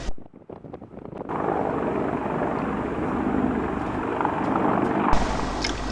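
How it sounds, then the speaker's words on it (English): A helicopter flies near the San Diego Navy port by the bay, its broad rotor and engine roar holding steady and fairly loud for several seconds after a brief quieter start, with wind rumble mixed in. "there's lots of activity with things like helicopters going in and out"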